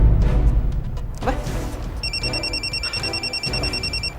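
A telephone ringing indoors in repeated electronic trilling bursts, steady and fairly loud, over a background of room noise and faint movement.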